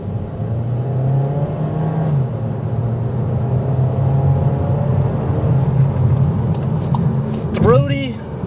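A 2023 Volkswagen Taos engine revs and accelerates with a throaty, steady drone, road noise running underneath, ending with a short rising whine.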